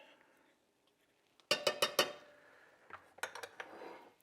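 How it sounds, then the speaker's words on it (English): A whisk knocks and scrapes against a pan of gluten-free, dairy-free meatball gravy, in two quick bursts of clinking metallic strokes after a near-silent start, close and fairly soft. "And we whisk."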